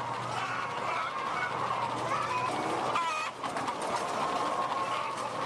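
Caged laying hens in a crowded battery farm, up to a hundred thousand birds, fill the space with constant overlapping clucks and squawks. The din stays steady and dense, with a machine-like hum underneath.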